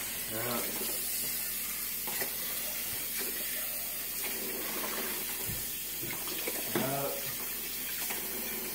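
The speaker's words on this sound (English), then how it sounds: "Can you rinse her out?" Tap water runs steadily into a kitchen sink as a single dish is rinsed, a continuous splashing hiss with brief clinks and a voice briefly audible underneath.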